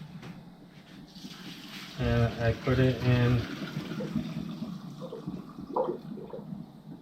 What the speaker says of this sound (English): Now we're ready to drain off the water.